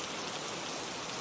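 Steady rain falls in a dense, even hiss of countless drops, soft and continuous with no other sounds.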